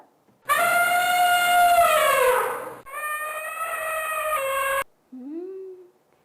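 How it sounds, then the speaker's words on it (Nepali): An elephant trumpets in a long, loud, brassy blast lasting several seconds, breaking briefly midway before ending abruptly. "एलिफेन्टको आवाज हो।"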